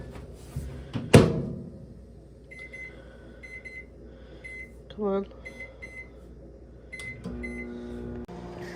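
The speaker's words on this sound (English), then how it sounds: "So we're gonna microwave it." A microwave oven heats a bowl of corn chowder, running with a faint hum and a few soft beeps, with a thump near the start, a brief spoken phrase, and clattering toward the end.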